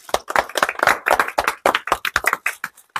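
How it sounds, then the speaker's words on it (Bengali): Hands clap quickly and irregularly close by, a small handful of people giving sharp, uneven applause during a funny game challenge. "জোরে করে হাততালি হবে"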